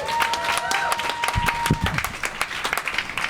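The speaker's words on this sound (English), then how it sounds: "A nice round of applause for Angie Healey" Applause and light crowd noise from a stand-up comedy audience greeting a comedian, clapping throughout with a sustained tone and a voice briefly audible over it.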